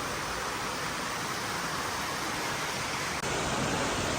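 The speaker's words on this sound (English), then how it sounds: "enjoy the mini waterfall right here at the Takashimaya basement level" Mini waterfall in the basement level of Takashimaya department store, a steady broadband rush of falling water filling the space continuously with no voices.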